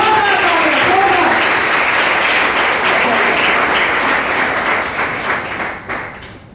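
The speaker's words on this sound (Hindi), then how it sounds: "एक बार जोरदार तालियां होनी चाहिए मिस आरती मैम के लिए" Loud, sustained applause from an audience welcoming a woman presenter at a business plan show, steady clapping throughout that thins and fades toward the end.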